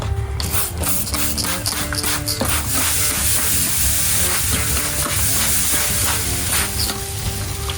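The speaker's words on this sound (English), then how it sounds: "You can just hear that sizzle from the grates." Loud, steady sizzling of pork spare ribs on hot grill grates, a continuous crackling hiss with occasional sharper pops and faint scraping, no voices.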